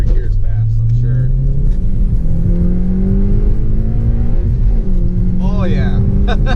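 A 9th-generation Honda Civic Si engine revs up through the gears, its rising drone stepping down at each shift. It sounds loud and close, heard from inside the car, with brief speech over it.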